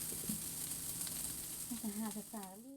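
Greens cook and wilt in a pan with a soft, steady sizzle, faint and continuous, while a person speaks over it toward the end.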